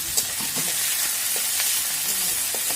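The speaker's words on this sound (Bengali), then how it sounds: "তো এই বাটাটাকে দিয়ে আমি একটুখানি কষিয়ে নেব ভালো করে" Dried fish paste (shutki bata) fries with onions already browned red in a pan, giving a steady close sizzle with a few soft stirring scrapes, no voices.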